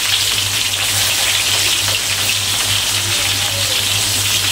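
Sliced onions sautéing in used frying oil in a pan for a chicken coconut-coriander curry, a steady close sizzle and crackle with a low background hum, no talk.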